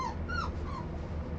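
A male phantom Moyen Poodle puppy whimpers and yips in short, high, rising cries close by, alone with no talk over it.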